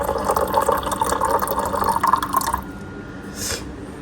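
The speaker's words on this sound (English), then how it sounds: "So I'm just getting this filled up to 8 ounces." Water runs steadily from a tap or dispenser into a baby bottle as it fills to eight ounces for a formula feed, a continuous close splashing pour that cuts off abruptly partway through.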